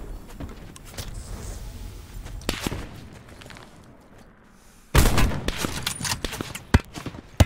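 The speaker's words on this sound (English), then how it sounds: "we're getting shot from the back" Gunfire crackles through a Call of Duty Blackout battle royale match, scattered distant shots early, then a loud close burst of rapid automatic fire with sharp individual reports.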